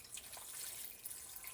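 About six cups of water are poured into a pot of frozen ingredients for broth in a home kitchen. It comes through as a soft, steady, splashy hiss, faint and continuous.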